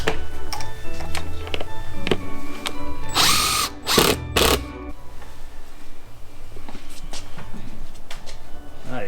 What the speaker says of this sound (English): What I'm going to do now is drill out holes where I marked so we can screw right in.